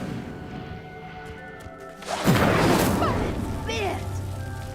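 Incendio fire spell igniting a pyre in the Hogwarts Legacy video game: a sudden loud whooshing burst of flame that swells and roars for a few seconds, with crackling, over a quiet ambient backdrop.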